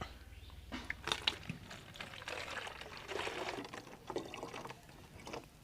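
Water poured into a can for a bike-running experiment, a steady splashing flow with fuller bursts, close by, with no talking.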